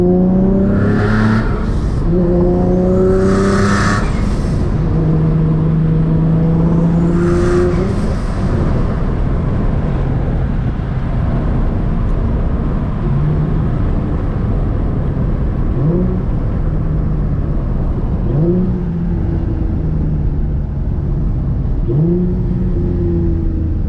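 A Nissan Z's engine revs up several times while driving, each climb in pitch breaking off at a gear change, loud at first and then settling into a quieter, steady cruise with smaller rises.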